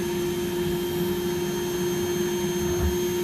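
A Rainbow vacuum cleaner runs in a home, lifting dirt without touching it, with a steady, loud motor whine and hum that holds constant throughout, with no talking.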